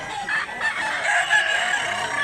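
A rooster at a chicken market in South Cebu crows once in a drawn-out call, fairly faint and somewhat distant, with no talk over it.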